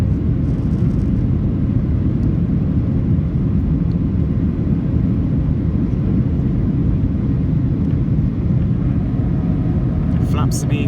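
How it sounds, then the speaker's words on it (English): The cabin of a Ryanair Boeing 737-800 after takeoff from Stockholm Nyköping fills with a constant loud low rumble of climbing jet engines, steady throughout, with faint higher clicks near the end. "So finally we took off from the ground and we've got a 2-hour flight to Stansted."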